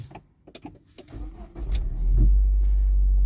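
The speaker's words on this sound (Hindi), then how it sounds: "गाड़ी को अब स्टार्ट करते हैं।" A 2024 DFSK Glory 580 Pro turbocharged SUV starts up: a few clicks and cranking, then the engine catches and settles into a loud, steady low hum close by.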